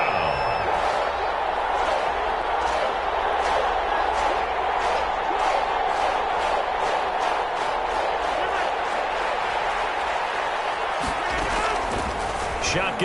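Stadium crowd at an NFL football game roars in a steady, dense wash throughout, with broadcast commentary talking over it.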